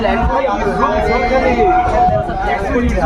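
Crowd chatter fills the platform at Bandel railway station, with many overlapping voices forming a close, busy murmur, and one voice standing out above the babble.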